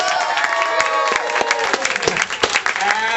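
A studio audience at a dating show claps and cheers together, steady applause heard under an announcer's voice throughout.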